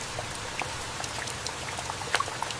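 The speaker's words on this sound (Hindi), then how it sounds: "बारिश की बूंदें पत्तों पर गिरकर मधुर संगीत बना रही थीं।" Heavy rain falls on the leaves of a large jungle tree, giving a faint, scattered patter of individual drops over a soft steady hiss.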